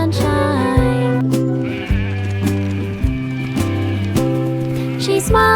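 A flock of sheep bleats in a children's nursery rhyme song, with sustained, wavering bleats stepping through pitches in a melodic pattern, loud and close, set against a musical backing.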